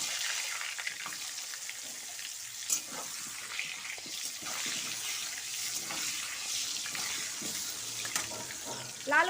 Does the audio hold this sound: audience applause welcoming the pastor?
no